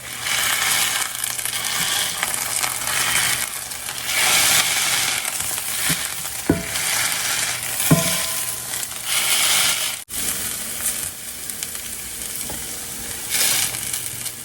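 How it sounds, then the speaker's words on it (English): Potatoes sizzle and crackle steadily in a hot frying pan while a smash burger press squashes them down, with a few crunching presses and clunks of metal against the pan, close and with no speech. "I like to use my smash burger press and press down."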